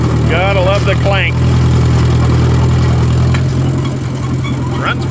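John Deere 1010 crawler bulldozer engine idling with a steady, close, low throb and occasional metallic clanks, someone briefly speaking over it early on.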